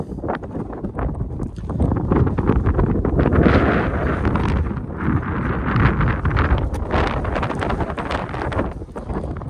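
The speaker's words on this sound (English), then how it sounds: "It's quite windy up here." Steady, gusty wind roaring across an open microphone on the corner of a mesa, with broadband rumble and buffeting that swells and eases throughout, no voices.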